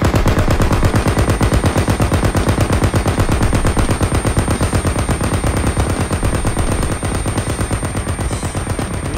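Sustained rapid automatic gunfire in a video game, a loud, close machine-gun rattle of evenly spaced shots running without pause for the whole stretch.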